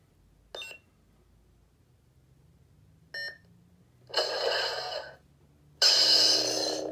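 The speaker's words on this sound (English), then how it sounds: "push and hold until you hear 2 beeps, and you'll switch to the next sound font." Two short electronic beeps from an Infinity Kota lightsaber hilt by Starfall Sabers, switching sound fonts, sound a few seconds apart in near silence, followed by two longer bursts of buzzing, whooshing hum.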